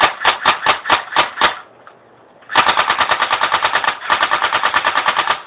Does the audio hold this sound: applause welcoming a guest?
no